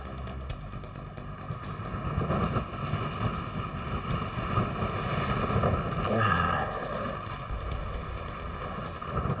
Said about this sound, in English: Wind is so bad.